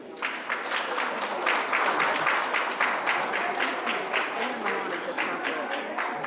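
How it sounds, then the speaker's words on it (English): Steady applause rises from an audience at a legislative meeting honoring career and technical education students, many hands clapping at a moderate level and continuing without a break. "Let's give them all a round of applause."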